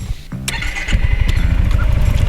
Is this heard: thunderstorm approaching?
no